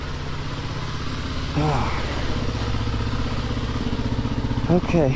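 A dirt bike engine idles and revs on a muddy trail, a steady close mechanical drone with short throttle blips, while a person speaks briefly over it.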